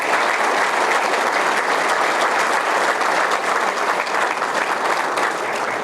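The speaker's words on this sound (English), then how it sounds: "Let's please join me in a round of applause for Mike Perloff." Audience at a law enforcement appreciation breakfast gives a round of applause, steady dense clapping that stays loud and even throughout without pause.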